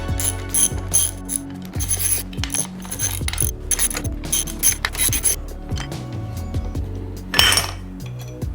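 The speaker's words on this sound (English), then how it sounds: "Now that it's held down, we can start removing all these bolts." Bolts being backed out of a Jr Dragster Shockwave clutch held under spring compression, a steady run of ratcheting clicks and metallic clinks close up, repeating in short bursts with a brief louder rattle near the end.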